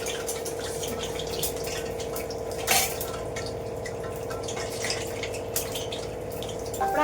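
Water poured into simmering pappucharu lentil soup on the stove, a steady close trickle and splash with dripping over a constant background hum, a brief louder splash midway, no talking.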